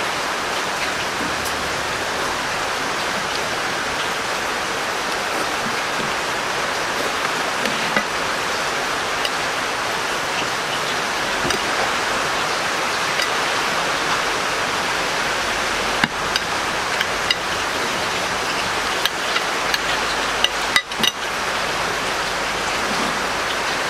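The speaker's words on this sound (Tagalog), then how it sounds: "Ang lakas ng ulan." Heavy rain pours down in a dense, steady hiss, close and loud throughout, with a few sharper drips and knocks near the end.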